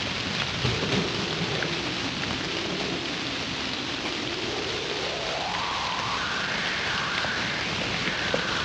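Heavy, steady rain pours down continuously, a dense, loud hiss of drops on surfaces with a low rumble underneath and no voices.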